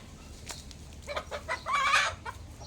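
Live chicken clucking several times at close range, with a busier burst of calls toward the end, set against steady low background noise and no talk.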